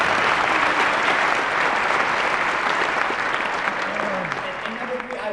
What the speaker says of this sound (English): So can we give him a hand of applause, please?